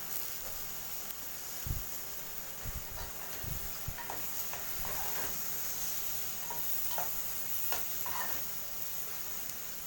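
Soaked, drained basmati rice is stir-fried with other ingredients for kabsa, a soft continuous sizzle under scattered scraping and tapping of a utensil against the pan, moderately faint.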